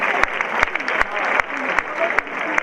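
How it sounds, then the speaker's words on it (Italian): A festival audience in Dorgali applauds at an accordion folk-dance rassegna, steady dense clapping from a sizable crowd with sharp individual claps standing out, sustained throughout. "Facciamo un applauso per questa prima parte"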